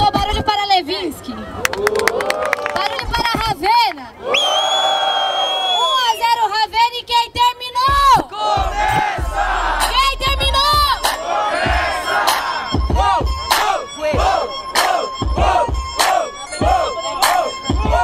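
Crowd at a Brazilian rap battle in Barueri, São Paulo, roars with loud, sustained cheering and shouting. Voices are shrill and overlapping. A host's amplified voice cuts in and out through the noise.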